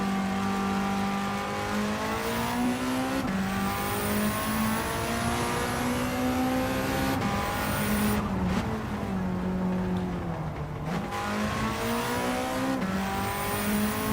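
A high-pitched race car engine in Gran Turismo 7 revs and shifts through gears continuously, pitch rising and falling with brief tire squeals, no talking over it.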